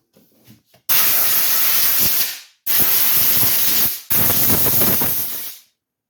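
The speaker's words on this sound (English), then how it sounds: "I'm going to take the blowgun, blow this off" Compressed-air blowgun blasting debris off the steering box of an 8N Ford tractor: three loud, sustained hissing bursts, each about a second or more, separated by short pauses, close and with no talking.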